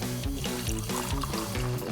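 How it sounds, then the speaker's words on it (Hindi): Water poured into black and white paint in a cartoon, a quick repeated glugging trickle with a regular rhythm, close and moderately quiet, with no talking. "थोड़ा पानी डालें"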